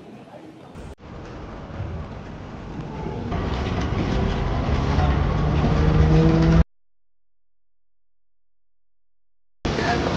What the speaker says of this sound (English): So apparently to go to gate A, I have to take a tram.